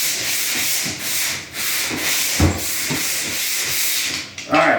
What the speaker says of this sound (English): using the old pole sander thing